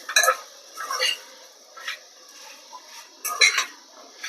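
A spoon stirring cluster beans in a pan in a home kitchen, giving light scraping and clinking bursts in a few separate strokes, fairly faint and close.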